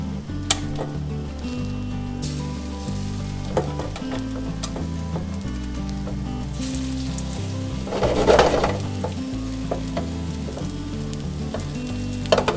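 Salmon fillet coated in flour fries in a hot oiled pan, a steady close sizzle with occasional clicks and a brief louder surge of spattering as the fish is moved.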